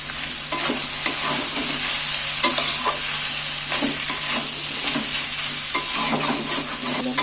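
Singara potato filling, dry-cooked with garam masala, is stirred and fried in a pan, giving a steady close sizzle broken by repeated scraping strokes of the spoon throughout, with no talking.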